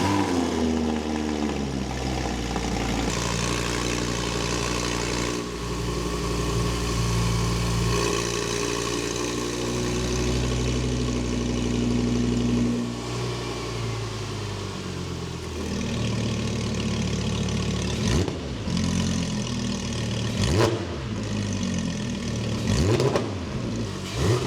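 An Audi R8 4S fitted with a full custom performance exhaust idles with a deep, steady burble, then is blipped through several sharp revs near the end, loud and close with no talking.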